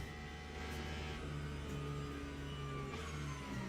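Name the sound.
Porsche race car engine in a racing video game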